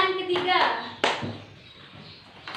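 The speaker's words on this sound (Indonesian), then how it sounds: "Beri aplaus dulu untuk kelompok 1" Brief burst of classroom clapping from high-school students for a group, short and close, with a teacher's voice talking over it before and after.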